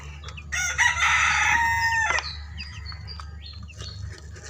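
Chickens at morning feeding: a rooster gives one loud, close crow, then several birds cluck and chirp softly over a low background hum.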